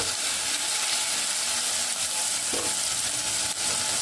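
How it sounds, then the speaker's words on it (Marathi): Chili, garlic and ginger paste sautéing in hot oil, a steady dense sizzle with continuous frying crackle, close and loud throughout, with a faint scrape of stirring and no voices. "जे मिरची लसूण अद्रकची पेस्ट बनवलेली आहे ती पेस्ट देखील यात घालायची आहे ही देखील आपल्याला थोडीशी तेलात परतवून घ्यायची आहे"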